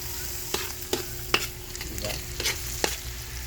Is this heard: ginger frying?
yes